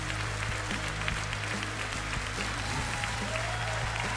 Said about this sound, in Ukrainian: Ці оплески від усієї сотні для вас.